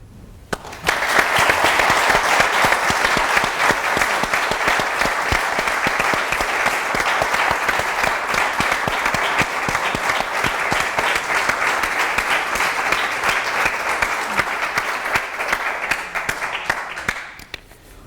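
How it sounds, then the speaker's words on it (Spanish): Audience at a memorial tribute breaking into sustained, loud applause that swells quickly and holds steady for over fifteen seconds before tapering at the end. "me gustaría que ustedes dieran un gran aplauso para recordarlo"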